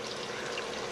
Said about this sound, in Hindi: मैं 3 गिलास पानी डाल रहा हूँ